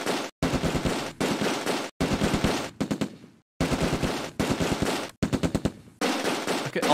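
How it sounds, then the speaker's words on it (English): American rifles fire in unison in the Close Combat war game, with rapid, dense volleys crackling in long bursts broken by short gaps, loud and close, with no voices. "The melodious sound of American rifles firing in unison"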